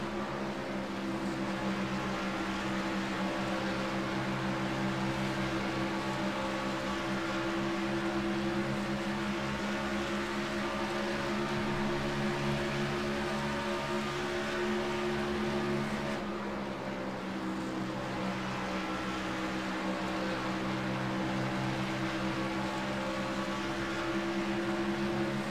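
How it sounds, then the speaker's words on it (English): Steady droning engine roar of C-class trucks racing at Homestead in the iRacing sim, a continuous loud hum with layered harmonics that dips briefly midway, no voices. "You can hear the engines now."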